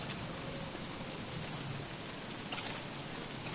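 Steady rain falling in the video game Don't Starve during a frog rain in spring, a dense even hiss of drops on the ground with no talking, continuous and moderately loud throughout.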